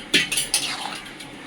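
A spoon clinks and scrapes against a cooking pot while sukto spice paste is stirred for a Bengali sukto, giving a few sharp metallic taps early on before the sound fades into a soft scraping.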